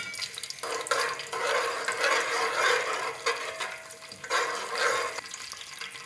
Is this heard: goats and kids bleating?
no